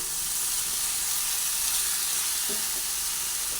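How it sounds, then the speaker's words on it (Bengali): Puffed rice being stirred together with onion and potato in a hot pan, a constant dense sizzling hiss with faint scraping of the stirring, close and unbroken. "মুড়িটা দিয়ে দিলাম তারপরে একসঙ্গে সব নাড়াচাড়া করে নিচ্ছি"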